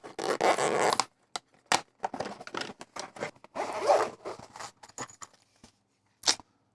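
Packaging for a ModMic USB microphone being opened: bursts of crinkling, tearing and scraping, loud and close, broken by short pauses and ending in one final rip.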